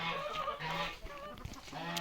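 Geese kept alongside chickens honk and cackle in overlapping, steady calls, close by and continuous, with no voices.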